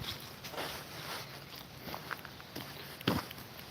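Footsteps on an early Sunday morning dog walk outdoors, a steady walking rhythm of moderately close steps over a soft open-air background, with a louder scuff near the end.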